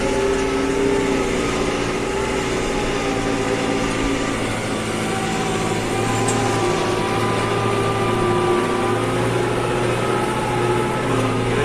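A New Holland TD100 tractor drones steadily while pulling a tillage implement through a field, its engine loud, close and unbroken throughout.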